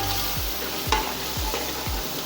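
Ginger paste fries in a pan for a fish curry, giving a steady, close sizzle while a utensil stirs with a few soft periodic scrapes.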